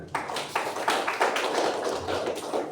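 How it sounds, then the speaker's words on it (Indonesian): A church congregation claps together, a dense run of quick hand claps with slight rhythmic pulses, moderately loud and close, with no voices over it. "Tepuk tangan buat Tuhan."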